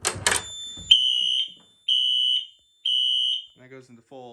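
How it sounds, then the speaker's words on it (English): A smoke detector in a fire alarm system sounds in full alarm mode after a reset: three loud, steady, high-pitched electronic beeps in even rhythm, following brief clicks and ending with a short bit of other sound. "And that goes into full alarm instead of the drill switch mode"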